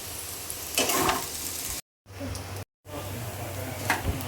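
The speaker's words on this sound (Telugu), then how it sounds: "మంచిగా ఫ్రై అయ్యేంత వరకు ఇలా కలుపుతూ ఉండాలి" Potato pieces fry in a pan while being stirred, a steady close sizzle with louder scraping sweeps, and two brief dead silences cutting through the middle.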